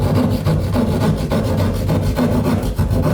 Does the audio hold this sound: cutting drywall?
yes